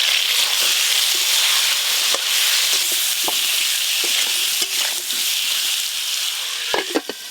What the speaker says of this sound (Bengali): তেল গরম হয়ে গেছে, এবার আলুগুলো সব ভেজে নেব